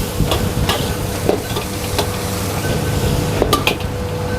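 Onion and garlic frying in oil in a pan, a steady close sizzle with scattered clinks and scrapes of stirring, no talking.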